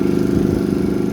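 A Sanya motorcycle engine labours steadily up a steep climb carrying two riders, giving a continuous loud, throaty drone with a dense mechanical rumble and no pauses.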